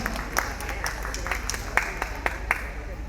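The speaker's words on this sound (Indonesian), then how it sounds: "Tepuk tangan untuk para panelis kita hari ini" Applause for panelists at a Save the Children event: a small group's sparse, uneven claps, fairly faint over a low room hum, with a few sharper claps standing out.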